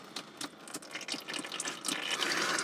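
Gearbox oil from a Honda car drains in a steady, close liquid trickle and splash that grows fuller toward the end, with no voices.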